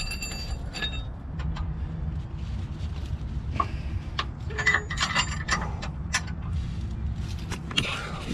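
A ratchet wrench works a nut on a Subaru WRX exhaust stud during a Cobb Stage 2 J-pipe install, giving steady close clicking strokes over a low mechanical hum, with scattered metallic ticks.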